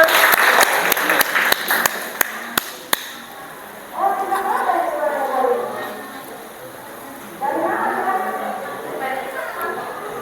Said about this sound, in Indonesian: Kita berikan tepuk tangan untuk Alif yang sudah berani bertanya.